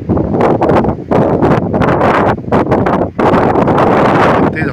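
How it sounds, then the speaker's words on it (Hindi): Strong wind in a hillside village in Uttarakhand, sweeping through the trees and buffeting the microphone in loud, roaring gusts that surge and ease repeatedly, with a brief lull just past the midpoint. "तेज हवा चल रही है"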